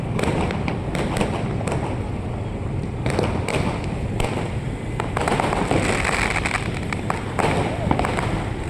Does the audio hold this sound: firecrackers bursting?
yes